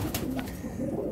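A pair of Saharanpuri pigeons, a pure-bred pair, gives soft low cooing at night, close and continuous for a moment with no talk.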